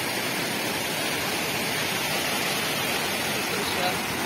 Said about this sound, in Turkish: İçinden akan harika bir şelale.